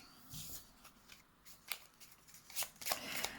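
Tarot cards being shuffled by hand for a reading, soft riffling and flicking bursts that swell and fade unevenly, quiet and close with a light hiss underneath.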